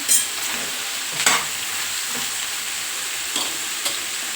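Ridge gourd curry stirred and frying in a pan, a continuous bright sizzle with a few sharp scraping strokes of the spoon against the pan, close and clear with no talking.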